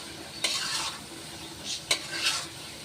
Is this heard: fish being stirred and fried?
yes